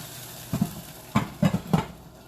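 Caramelized onions in a hot pan are stirred in a few quick strokes, each bringing a short burst of close, soft scraping over a quiet sizzle.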